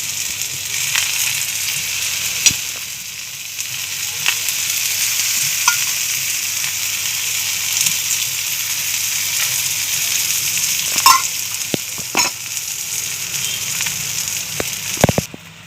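Cucumber thalipeeth frying on a pan with oil trickled in at the side, a continuous soft sizzle and crackle with occasional sharp clicks and scrapes, close and steady, no voices.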